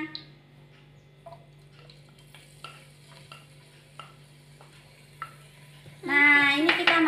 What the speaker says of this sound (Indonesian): Kita tuang bawang putih sama bawang bombaynya.